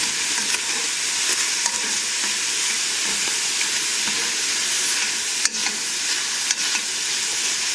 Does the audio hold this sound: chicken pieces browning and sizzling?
yes